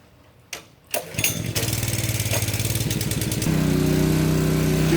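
Power washer engine with a freshly replaced carburetor is pull-started; a couple of cord tugs, then the small engine catches and runs loud and steady with a rapid putter, rising slightly in pitch.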